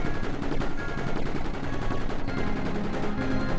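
Salvo turrets in the video game Mindustry fire in rapid, dense bursts, a continuous crackling barrage of gunfire-like shots that stays loud and busy throughout without any talk.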